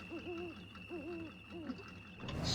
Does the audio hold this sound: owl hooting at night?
yes